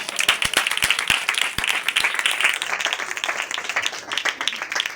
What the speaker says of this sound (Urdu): مارو تالیاں اس میں